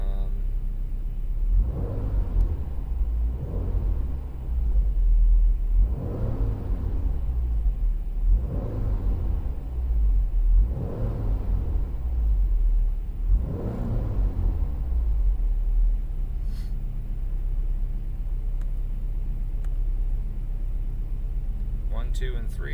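A Subaru STi engine, fitted with an EMTune KV8 setup, blips through five distinct revs in an even rhythm, each a loud rising roar that falls back to a low idle rumble. Someone speaks between and over the revs.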